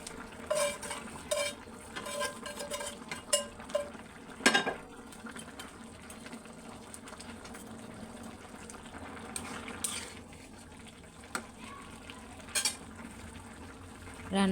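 Fried stinging catfish go into a pan of simmering bottle gourd greens, and stirring follows: low bubbling and soft scraping with a few sharper clinks and knocks, steady and close, with no talking.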